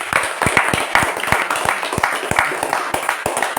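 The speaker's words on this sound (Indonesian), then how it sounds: "Tepuk tangan." An audience at a live religious talk in Bandung claps in a scattered, rhythmic patter of hand claps, moderately close, with faint voices mixed in.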